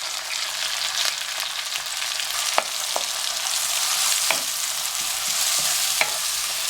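Diced onion frying in a pan used for sausage, giving a steady dense sizzle with occasional small crackles and pops, close and without talk.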